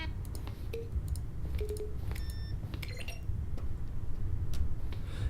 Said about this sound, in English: The selection of the sounds used throughout the game when buttons are pressed. Each sound is a mix of a keyboard stroke and a synthesized tone.